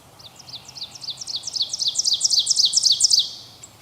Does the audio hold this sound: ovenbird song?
yes